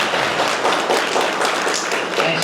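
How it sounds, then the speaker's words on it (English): A crowd claps for National Honor Society inductees at a school ceremony, a loud, dense burst of many hands applauding close by, continuous throughout with no speech over it. "One more round of applause for our class of 2025"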